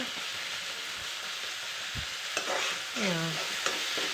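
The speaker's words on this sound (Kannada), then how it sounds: "ಅವಾಗವಾಗ ಸ್ವಲ್ಪ ಕೈ ಆಡಿಸ್ತಾ ಇರಬೇಕು, ಟೊಮೊಟೊ ಸಾಫ್ಟ್ ಆಗೋ ತನಕ" Tomatoes cooking in tamarind water get stirred in a pan, with soft scraping and low bubbling close by and a couple of sharper utensil knocks toward the end.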